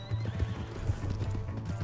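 Rapid hoofbeats pound in a steady galloping rhythm, with a horse whinnying over the clatter, fairly quiet and game-like, from the video game Red Dead Redemption 2.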